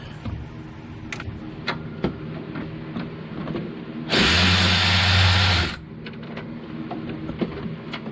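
A power tool, likely a cordless impact driver or drill, removes a 10mm bolt from a 2017 RAM 1500 during A/C work. It gives one sustained burst of about a second and a half amid scattered clicks and clanks of tools.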